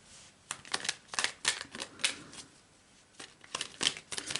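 Tarot cards shuffled and drawn during a card reading, a run of close, crisp riffling and slapping bursts with short pauses between them, heard alone without talk.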